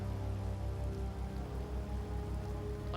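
Rain falls steadily in the video game Tales of Vesperia, a dense, even patter with a low rumbling undertone, continuous for the whole stretch with no voices.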